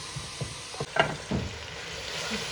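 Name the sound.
masala sizzling while being fried in oil on high heat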